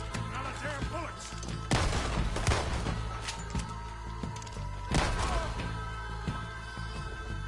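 Gunfire in Red Dead Redemption 2: a few loud, sharp shots and booming blasts ring out at intervals over a steady game background, with brief talk nearby.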